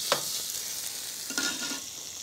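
Pancetta sizzles in a pan with Brussels sprouts and caramelized onions in an Italian-style kitchen, making a dense, steady frying hiss broken by a couple of brief utensil clatters close by.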